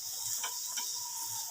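Mustard greens (saag) roast and get stirred in a pan, giving a faint steady sizzle with a few soft scraping stirs and no talking.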